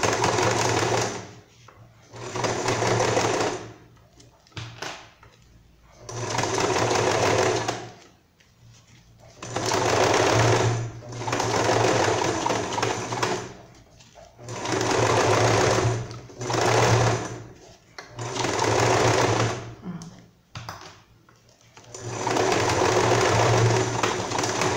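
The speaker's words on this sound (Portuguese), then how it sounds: "E dá sequência aqui na costura." A sewing machine stitching a small child's bag, running in steady, loud mechanical bursts of a few seconds each, separated by brief pauses, close up and with no talking over it.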